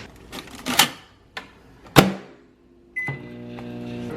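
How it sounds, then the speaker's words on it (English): A microwave oven hums steadily after a few clicks and a sharp clunk as the door shuts and the machine starts running. "I'm gonna get those cooking in the microwave."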